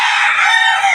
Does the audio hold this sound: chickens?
yes